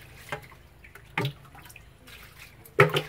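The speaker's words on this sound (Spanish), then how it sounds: "Olguita cómo está lavando el pescadito ya para prepararlo para una buena cenita ahí" Water splashes in short bursts while fish is washed for dinner: three brief, fairly close splashes spaced apart, with quiet gaps between them.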